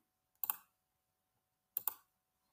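Two crisp computer mouse clicks, each a sharp double tick, about a second and a half apart in otherwise silent surroundings.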